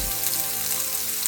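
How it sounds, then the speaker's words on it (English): Roughly chopped onion hits a little oil in a pan over medium-low flame, giving a steady, close hiss of sizzling with no talking. "I am adding 1 small size roughly chopped onion"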